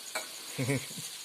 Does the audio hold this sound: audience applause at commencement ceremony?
no